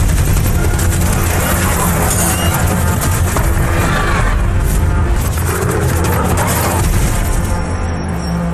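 Loud, relentless machine-gun fire in rapid bursts, mixed with booms and crashing impacts, dense and continuous throughout.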